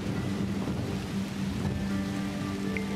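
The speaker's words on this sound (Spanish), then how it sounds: "hemos echado cuatro tormentas" Steady heavy rain with rumbling thunder from a thunderstorm in the city-building video game The Universim, a dense continuous wash of downpour under a low, sustained rumble.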